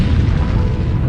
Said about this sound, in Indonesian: akhirnya bom itu diledakkan menghancurkan Bukit 60